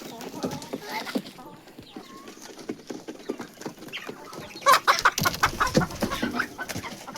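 Chickens in a home coop give scattered clucks and soft calls amid shuffling, scratching and rustling, with a burst of louder clattering movement midway; a voice talks over the birds throughout.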